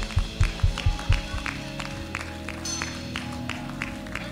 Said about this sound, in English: I hear some clapping